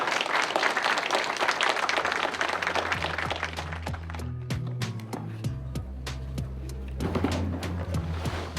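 Applause for firefighters from a crowd, dense clapping through the first half that thins into scattered claps over a low idling engine rumble, then swells again near the end.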